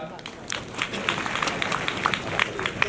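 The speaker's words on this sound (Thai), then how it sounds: "ขอเสียงปรบมือให้กับ VTR จากน ิวยอร์กครับ" Audience applause in a studio crowd at a Thai modeling competition final, a steady wash of clapping with scattered sharper claps throughout, moderately loud and continuous.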